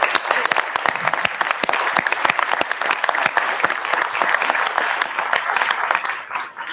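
Sustained applause from a crowd at a police commissioners' board meeting, steady dense clapping throughout that fades slightly near the end.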